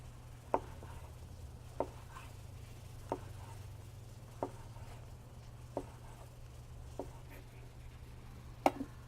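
Knife slicing mushrooms very thin on a board at an outdoor grill setup, a series of about eight crisp, evenly spaced chops close by and quiet, over a low steady hum.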